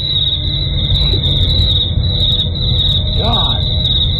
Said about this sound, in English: I think we need the crickets, Robbie.